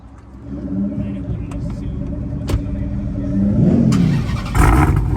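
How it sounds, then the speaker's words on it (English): A car engine runs and revs up, rumbling at close range, with a couple of sharp clicks and people talking over it. "How does she sound? Do we get an engine start?"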